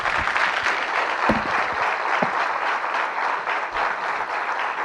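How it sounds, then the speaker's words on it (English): A large audience at a defence forum breaks into a loud, full round of applause, dense continuous clapping with a few close, sharp claps standing out, rising slightly in the middle and easing toward the end. "Ladies and gentlemen, a huge round of applause."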